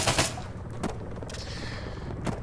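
Suppressed VSS Vintorez rifle in Arma 3, firing a few muffled shots spaced apart over a low steady background.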